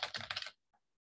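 Quick typing on a computer keyboard, a short close flurry of key clicks followed by one faint final tap.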